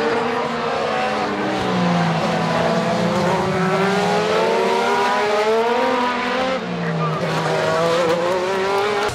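A race car engine in the Assetto Corsa racing game roars steadily at high revs on track, loud and continuous, with the pitch wavering up and down through corners.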